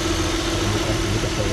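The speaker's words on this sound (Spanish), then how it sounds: "El motor Ecotec V6." An Opel Omega's Ecotec V6 engine idles steadily, a low even hum with a faint tonal drone, with no voices.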